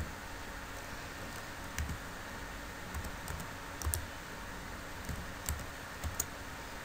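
Someone types on a computer keyboard with light, irregular key clicks and a few sharper taps over steady background hiss, close and fairly quiet, with no talking.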